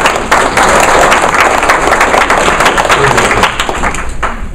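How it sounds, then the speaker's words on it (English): Loud, dense audience applause at a seminar on paying for senior living, with many hands clapping close by and continuing steadily before starting to thin toward the end. "So let's round of applause here."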